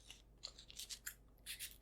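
Scissors handled during a close-miked arts-and-crafts roleplay, giving a series of soft, crisp metallic snips and rustles in quick irregular bursts, quiet and intimate with no talk.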